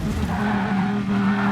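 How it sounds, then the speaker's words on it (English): A race car in Gran Turismo Sport spins around after smashing into a wall, its tyres screeching in one loud, continuous skid over a droning engine. "here comes Karma, smash into the wall, spins round"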